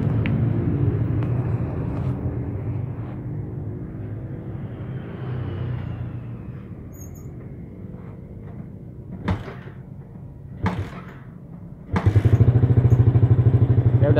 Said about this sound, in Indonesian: Udah nyala ya motornya ya.